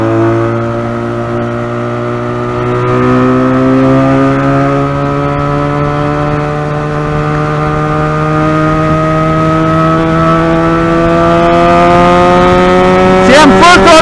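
A Benelli 302R motorcycle engine roars loudly at full throttle, its whine climbing steadily in pitch as it accelerates for a long, continuous stretch.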